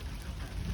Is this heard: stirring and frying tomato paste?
no